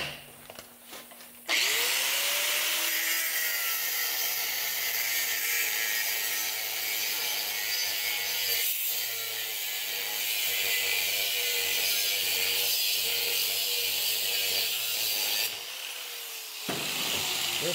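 A saw cuts straight through a steel pipe being made into a pipe anvil, a loud, steady, continuous cutting noise that starts abruptly and runs for roughly fourteen seconds before stopping.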